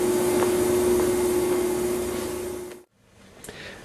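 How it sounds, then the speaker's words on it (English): An antique clock parts cleaning machine hums with a steady motor drone and a constant pitched whine up close, then cuts off abruptly, leaving a quieter room with faint knocks. "We're all done running it through the cleaner."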